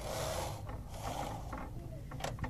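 A knitting machine carriage sliding across the needle bed while a sweater neckline is shaped, giving a soft mechanical rasp and ratcheting clicks, close and fairly quiet.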